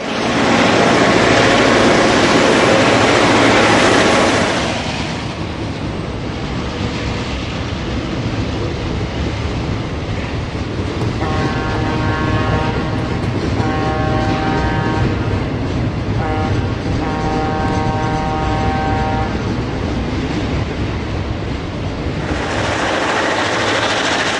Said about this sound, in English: ABA Black Widows assist with bringing this freight down the hill.